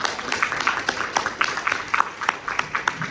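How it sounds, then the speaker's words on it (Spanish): Scattered hand claps from a seminar audience welcoming a speaker to a national research seminar, light and uneven, without a full ovation. "Démosle un fuerte aplauso,"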